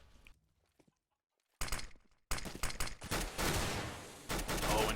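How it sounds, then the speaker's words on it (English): Rapid bursts of rifle and pistol gunfire in a Counter-Strike match on the Inferno map, starting after a near-silent second and building into dense, loud overlapping volleys with sharp individual shots. "Neek's missing the Deagle."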